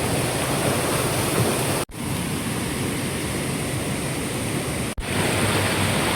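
A river's water flowing, a loud, constant rushing roar close by that fills the scene without pause.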